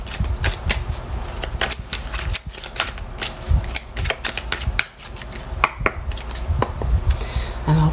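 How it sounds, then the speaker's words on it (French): A deck of tarot cards is shuffled and cut in a steady run of riffling, flicking card noise with sharp snaps and slaps, close and fairly loud, with no voices. "je reprends ces cartes pour faire la coupe maintenant pour les Verseaux"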